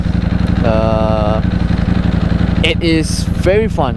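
A Ducati Panigale V4S superbike engine rumbles steadily while riding through the city in street mode, a loud low pulsing drone throughout, with a rider talking over it and some tonal whines rising briefly.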